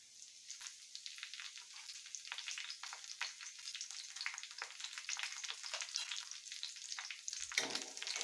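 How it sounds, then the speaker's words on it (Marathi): Finely chopped green chillies crackling in hot oil beside onions in a pan, a faint, steady hissing sizzle with light spitting that swells slightly near the end, no voices. "इथं जी तेल आहे त्याच्यामध्ये मी दोन बारीक चिरलेल्या मिरच्या घालत आहे"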